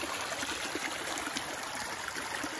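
Steady trickling of a shallow creek flowing over rocks in an Appalachian valley, a continuous close babble with no voices.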